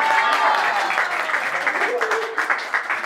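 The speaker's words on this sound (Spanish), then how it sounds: "un aplauso!" A small group claps at a 15th birthday party, a lively burst of close hand clapping that carries on steadily throughout, with voices mixed in.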